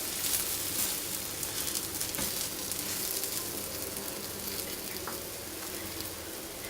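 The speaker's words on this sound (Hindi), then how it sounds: "अब थोड़ा सा घी छिड़केंगे ऊपर।" Soft, steady sizzle of a sweet paratha frying in ghee on a hot pan, a continuous crackling hiss with a few brief pops, fairly quiet and with no talking.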